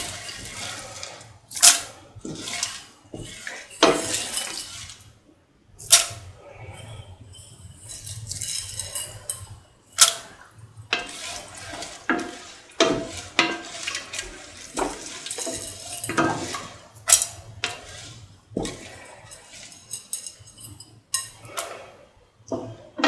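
Mung beans, carrot and rice being stirred together in a pan: repeated scraping and clinking of a utensil against the pan in an irregular rhythm, close and moderately loud, with faint watery sloshing and no talking.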